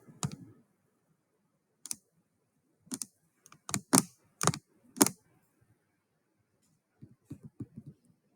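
Keys on a computer keyboard clack in short, sharp bursts, a few isolated strokes followed by a quick run of clicks, then silence and a final light flurry; close, fairly quiet, with no talking.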